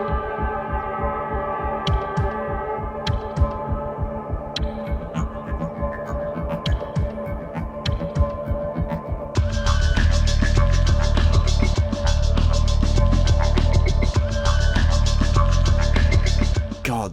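Ratchet & Clank level music for Oltanis Orbit Gemlik Base, a space station: a droning, pulsing synth bed with throbbing low tones and sparse clicks, thickening into a denser, louder layered texture about halfway through.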